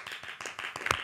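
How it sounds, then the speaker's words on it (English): Audience clapping sound effect triggered as a short soundtrack cue, a brief burst of dense applause-like claps lasting about a second, moderately loud with no talk over it. "you can, like, trigger, like, audience clap soundtrack."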